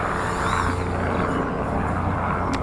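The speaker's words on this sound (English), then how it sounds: "And I hear a helicopter." A helicopter passes overhead outdoors among trees, a steady loud rotor drone that fills the whole short stretch without gaps.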